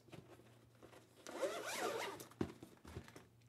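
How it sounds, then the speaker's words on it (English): A zipper runs along the small cable pocket of a PlayStation Portal carry case, one steady close pull lasting about a second, followed by a couple of soft handling knocks. "get your cables in there in the little zip pocket"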